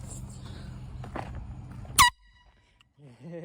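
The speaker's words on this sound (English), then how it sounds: "I dare you to honk at that neighbor." A sharp, loud air horn blast cuts in briefly after quiet outdoor walking sounds and background noise, followed by a moment of near silence and then a voice speaking.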